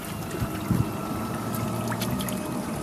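Water flooding into a Nautica CAT 20 RIB boat, a steady pouring, trickling rush close by that carries on without a break.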